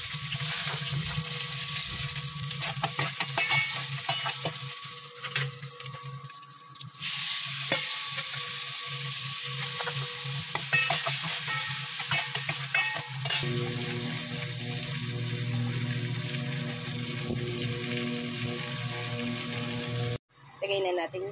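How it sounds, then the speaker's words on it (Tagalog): Garlic sautés in a pan for chicken afritada, a steady dense sizzle with occasional stirring clatter and a running-water rush in places, shifting in tone partway through and cutting off briefly near the end. "Isayin na natin yung bawang."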